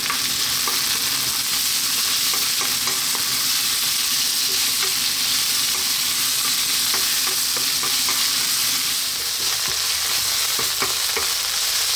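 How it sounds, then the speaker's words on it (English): Spinach being fried in a pan on high heat and stirred constantly, a steady loud sizzle with scattered scraping clicks of the utensil throughout, no talking. "Now really important to give it a nice fry, especially the spinach, on a high heat"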